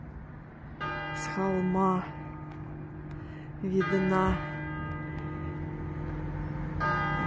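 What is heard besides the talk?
church bell ringing in France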